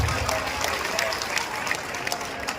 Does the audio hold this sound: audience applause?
yes